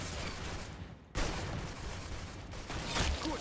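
Rapid bursts of video game gunfire crack in quick succession, loud and sharp, with a brief dip in the middle before the shooting resumes.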